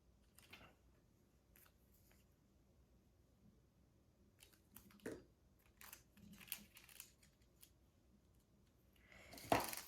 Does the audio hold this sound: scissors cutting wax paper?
yes